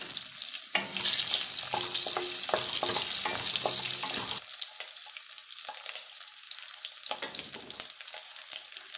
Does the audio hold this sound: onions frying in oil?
yes